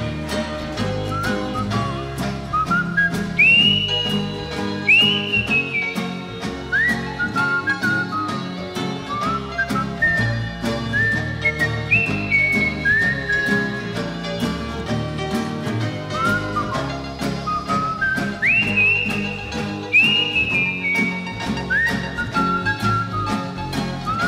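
A melodic whistled tune rides over a Finnish blues song about Pieksämäki station, the bright whistled phrases rising and falling repeatedly above steady guitar and band backing for the whole stretch.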